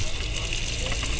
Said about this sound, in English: So it has got a water pump.